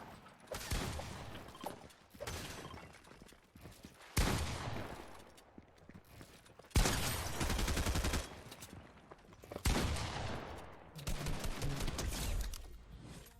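Video game gunfire rings out in heavy bursts, shotgun blasts and rapid volleys that roar for a second or two, then drop back between shots, loud and close throughout.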